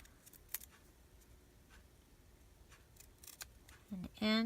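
Scissors cut washi tape with a few soft, isolated snips at a slow pace, and a voice briefly speaks near the end.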